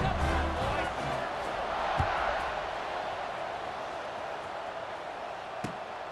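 Stadium crowd noise from a college football video game, a broad, steady roar with a couple of sharp thuds, holding at a moderate level throughout.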